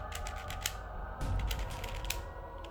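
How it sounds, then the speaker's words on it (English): A V-Cube 6 puzzle cube is twisted up close, its mechanism giving off sharp, uneven bursts of harsh clicking with no talk. "there's that really distinct click, and this clicking is what made the VCube 6 so infamous in the cubing realm"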